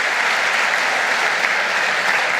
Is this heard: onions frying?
no